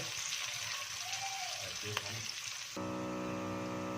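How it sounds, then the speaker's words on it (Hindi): Steady, close sizzling and crackling of onions frying in a pan, with a humming voice-like tone joining near the end. "प्याज को हमने ब्राउन करना है, बहुत ज़्यादा जलाना नहीं है, हमने ब्राउन करना है अच्छे से।"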